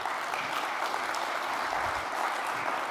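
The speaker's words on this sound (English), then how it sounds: "Please, warm welcome, a nice applause." Audience applause at the opening of a Cisco-sponsored e-Skills for Jobs campaign event, a steady, moderately loud wash of many hands clapping throughout, with no voices standing out.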